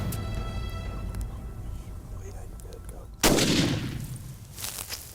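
A single loud rifle shot is fired at a buck across a brushy sendero during a hunt, with a sharp crack partway through over quiet outdoor background.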